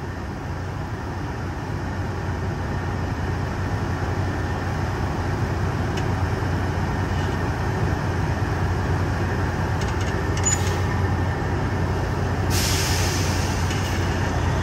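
Grain pours steadily into a hopper bottom trailer behind an idling truck at a loading site, a loud constant roar and rumble with brief hissing bursts near the end.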